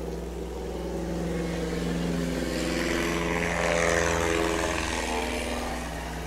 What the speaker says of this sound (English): And you can hear him spooling up his engine,